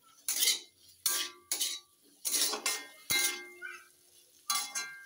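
Spoon scraping and clinking against a pot while stirring potato curry, a series of five or six distinct metallic strokes, close and fairly loud, with no talking.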